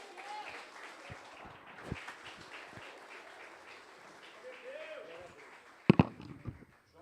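Congregation applause at a family church service, a dense patter of clapping running steadily under ongoing talk, with a few sharper loud pops near the end.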